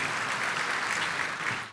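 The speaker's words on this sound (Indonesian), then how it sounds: "Tepuk tangan dulu yang paling meriah buat Tuhan." Church congregation bursting into steady, dense applause filling the room for nearly two seconds, then cutting off abruptly near the end.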